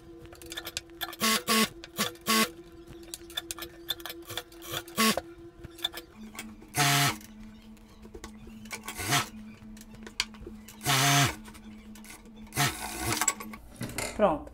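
A sewing machine topstitches fabric in short bursts of rapid mechanical stitching separated by pauses and handling noises, with a steady hum underneath.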